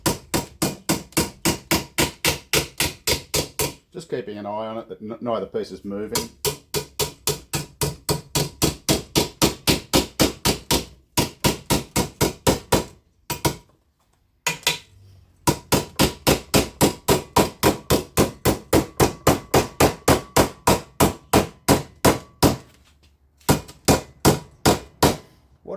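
A hammer strikes a steel GMC truck door panel during rust repair in fast, sharp metallic blows, long rapid runs broken by brief pauses, loud and close; someone speaks briefly at one point.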